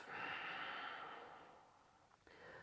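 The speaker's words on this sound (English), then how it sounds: "breathing out" A long, soft exhale through the nose during yoga vinyasa practice, a close breathy rush that fades gradually, then a brief catch and the start of another breath, quiet and alone.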